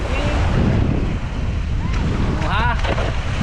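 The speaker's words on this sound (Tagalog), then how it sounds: "Mahangin kasi." Strong wind buffets the microphone in a constant low roar, with brief voices breaking through faintly near the end.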